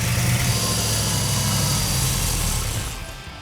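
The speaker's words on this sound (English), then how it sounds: "So this little engine had to be ran on the engine run stand before we could install it in the car." A restored 1969 Plymouth GTX engine runs on an engine run stand, giving a steady, close, rumbling idle that sags and fades near the end as it runs out of fuel.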